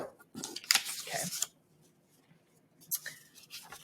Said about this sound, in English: gonna shuffle these up a little bit